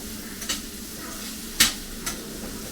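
Paneer fries in oil in a pan, a soft steady sizzle broken by a few sharp scraping clicks of stirring, close and fairly quiet.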